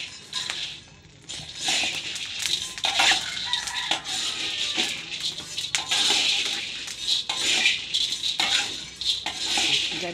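Coffee beans roast in a pan in Manggarai, scraped and stirred continuously with a metal utensil, giving a steady dense rattle and scrape with rhythmic clatters throughout.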